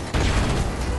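A flashbang grenade goes off in the video game Modern Warfare Remastered: a sudden loud broadband burst after a brief quiet start, followed by a sustained roaring, ringing wash of noise that fills the rest of the moment.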